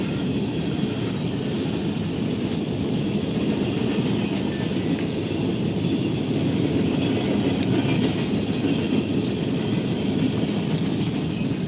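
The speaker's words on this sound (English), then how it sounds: "There's the end of the CSX coke train" A steady, heavy rumble and roar of a long CSX coke freight train rolling past nearby, continuous throughout with faint periodic clicks of wheels over rail joints.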